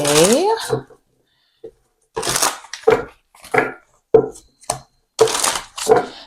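A voice speaks briefly, then a deck of tarot cards is riffled and shuffled in several quick, crisp bursts with short pauses between them.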